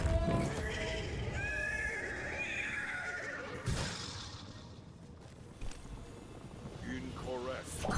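A horse in the video game Destiny 2 neighs in a loud, drawn-out whinny near the start, with another shorter whinny toward the end and hoof clops, while a voice speaks over part of it.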